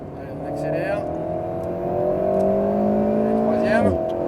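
Inboard view of an Alpine A110 S accelerating on the Le Mans Maison Blanche circuit, its engine note rising steadily in pitch under an instructor's voice, with a brief gear change near the end.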